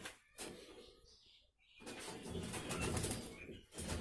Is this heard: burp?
no